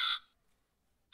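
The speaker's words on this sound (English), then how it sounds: "the crow." A sound machine plays crow caws: one harsh, loud caw at the start, then near silence, then a second caw beginning just as the sound cuts off.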